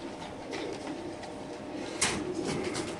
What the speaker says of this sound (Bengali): এটা চকো একটা মাদি কবুতর দেখেন মাশাআল্লাহ